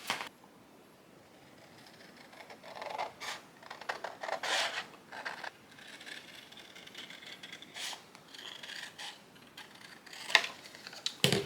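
Scissors or a craft blade trimming cut paper for a collage, giving soft intermittent rubbing and rasping snips in short bursts, quiet and close with no talk.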